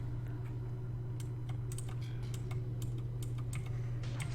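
Computer keyboard keys are pressed in a quick, irregular string of close clicks and taps over a steady low hum.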